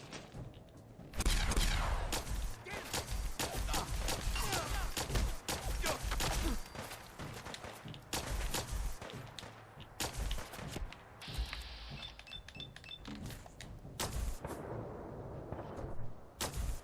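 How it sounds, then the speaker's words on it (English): Plasma rifle fire in the video game Fallout 4, a loud run of rapid sharp shots and bursts that keeps going almost without a break, with a brief electronic whine partway through and no talking. "I have a plasma assault rifle."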